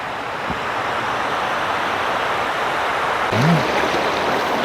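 A clear waterfall and stream at a campground in Muak Lek, Saraburi, Thailand, a steady broadband rush of flowing water, loud and continuous throughout, with a brief soft tonal chirp near the end and no talk.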